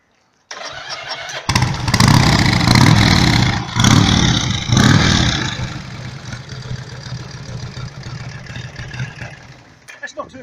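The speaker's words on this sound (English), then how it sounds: "I fitted an electric start to it. Anyway, hopefully it'll work." A BSA motorcycle of about 1140 cc with a fitted electric start turns over and fires, the engine bursting into loud revs that surge a few times and then settle toward a fading idle.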